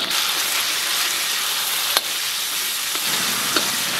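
Doubanjiang, scallion pieces and dried chilies stir-fried in hot oil in a wok: a loud, continuous sizzle and hiss with a couple of sharp clinks from the spatula against the pan, no talking.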